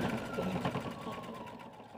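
A sewing machine runs a short seam to hold tabs in place on a fabric project, a quiet, even mechanical whir with a faint rhythmic knock.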